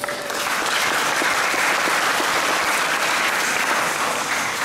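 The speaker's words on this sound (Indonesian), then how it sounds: "Tepuk tangan untuk pembina kalian semua." Seminar audience for Scout (Pramuka) leaders claps steadily and densely throughout, a loud, sustained wash of applause from a full room with no talk over it.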